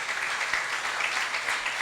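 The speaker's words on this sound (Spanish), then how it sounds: "Denle un aplauso al Señor Jesús." Church congregation applauding during a sermon, a brief, even wash of clapping that sounds faint and a little distant, with no speech over it.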